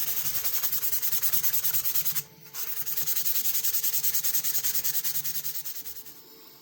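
A knife blade hand-sanded with 1000 grit sandpaper: fast, rhythmic scratchy strokes heard up close, with one short pause midway before the steady back-and-forth rubbing resumes and fades slightly.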